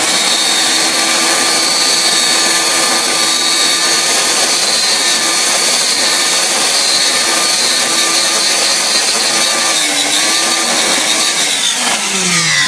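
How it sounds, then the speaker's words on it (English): A blender processing coconut and leftover cashews, running at a loud, steady high-pitched whine throughout with no pauses, and a slight shift in pitch near the end. "So we're gonna blend that up and show you what it looks like."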